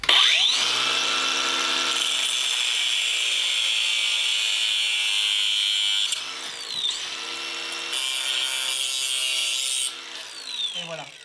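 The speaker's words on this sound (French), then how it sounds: "je viens à la disqueuse et je coupe" An angle grinder cuts through a threaded rod, giving a loud, continuous high-pitched whine and grinding screech close by, with the pitch shifting as the disc bites in, a few brief pauses, and no talking.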